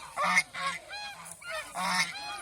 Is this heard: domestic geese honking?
yes